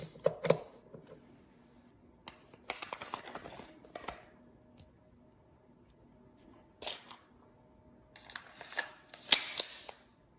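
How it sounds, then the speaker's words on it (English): A Bryna CO2 gun firing rubber balls, sharp snapping shots and clicks in scattered clusters with quiet gaps between them, near and fairly crisp, with no one speaking. "So now we're gonna fire the Bryna rubber balls."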